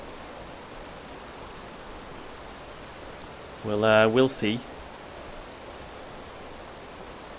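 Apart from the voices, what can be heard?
heavy rain downpour in the video game Enderal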